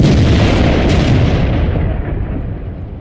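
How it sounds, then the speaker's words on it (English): A tank gun fires in a World of Tanks battle: one loud, heavy boom at the start, followed by a long rumbling decay, with no voices. "I'm keeping my gun firing though, so doing what I can."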